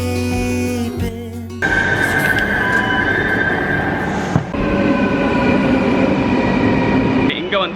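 A metro or sprinter train in Amsterdam rolls along with a steady loud rumble and sustained tonal whine, a brief drop and pause midway, then continues before a faint squeal at the end.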